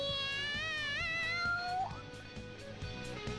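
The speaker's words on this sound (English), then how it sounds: "The cat's acting awfully excited." In the video game Persona 5 Royal, a cat meows loudly and excitedly in one long, wavering cry. Game music plays steadily underneath it, and a couple of shorter, softer mews follow.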